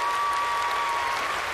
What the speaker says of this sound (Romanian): După cum aplaudați, văd că v-a plăcut foarte mult.